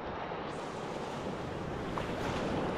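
Surf washing onto a nudist beach at Kladissos near Chania, Crete, a steady, close rush of waves mixed with wind buffeting the microphone, with no talking.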